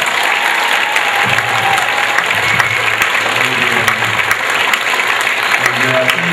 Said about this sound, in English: give them another round of applause because they are awesome